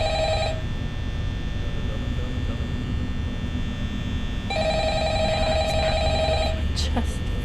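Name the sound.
telephone ringing in a video game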